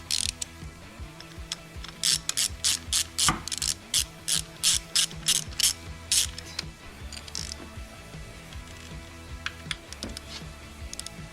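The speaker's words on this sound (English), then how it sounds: "To get it up under there, we're going to remove these bolts also." A hand ratchet clicks away loosening bolts from a 22XE engine during a camshaft install, with close bursts of quick ratcheting in uneven runs separated by short pauses, with no talking.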